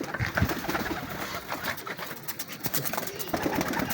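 Bred pigeons in a breeder's loft coo steadily nearby, soft rolling calls layered under people talking close by.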